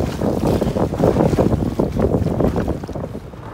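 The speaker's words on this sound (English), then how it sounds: "And a boat is coming." A boat approaches across open sea water near paddleboarders, its sound buried in loud, constant wind buffeting the microphone, with no speech.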